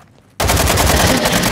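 Rapid automatic gunfire from Call of Duty Modern Warfare II's DMZ mode on the Vondel map, bursting in loud and close after a quiet moment, then continuing as a sustained, evenly pulsing stream of shots with no talk.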